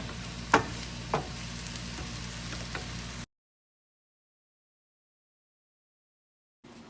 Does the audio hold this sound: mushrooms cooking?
yes